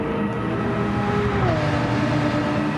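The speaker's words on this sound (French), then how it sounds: "J'essaye d'accélérer un petit peu pour larguer la McLaren qui est derrière moi" A racing car in a video game race at Interlagos holds a steady engine drone that climbs slowly in pitch while accelerating, loud and continuous with no talk.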